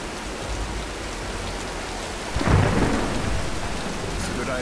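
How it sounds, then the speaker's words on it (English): Thunderstorm in the video game Tomb Raider 2013: steady heavy rain hisses throughout, with a loud rumbling thunderclap swelling midway and lingering as the downpour continues, no voices. "Nah, let's wait out the storm!"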